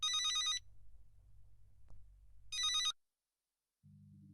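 A telephone bell rings in two loud bursts separated by a pause, each a bright jangling trill over a low hum, then silence before a brief low tone.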